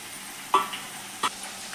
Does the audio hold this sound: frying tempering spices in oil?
yes